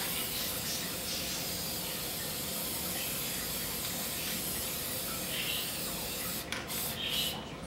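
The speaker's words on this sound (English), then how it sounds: "Spray it to keep the chalk on." A steady, broad hiss of aerosol fixative spray over chalk art on paper runs the whole time, continuous and close, with a few short sharper bursts near the end.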